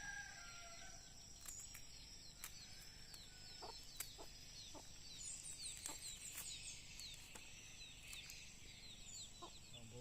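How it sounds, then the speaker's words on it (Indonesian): Chickens cluck and chatter softly at a distance while waiting to be fed, scattered short calls over a quiet outdoor background with a few higher bird notes mixed in. "Ayam-ayam sudah menanti ya."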